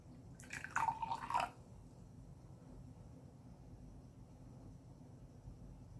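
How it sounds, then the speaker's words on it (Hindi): Water is poured into baking soda in a glass in a brief close trickle lasting about a second, then it fades to faint room hiss. "अब इस बेकिंग सोडा में मैं पानी मिलाती हूँ।"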